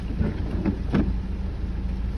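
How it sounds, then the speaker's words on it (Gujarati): Rain falls in Ambaji, Gujarat, a steady wash of hiss over a low rumble, fairly loud and continuous, with no voices. "વરસાદ ચાલુ થઈ ગયો અંબાજીમાં જો"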